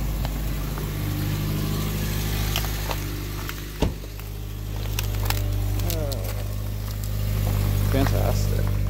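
A Mazda car that has sat unused for days starts in the cold, with a sharp catch followed by a steady low engine idle hum, close by and with some talking over it.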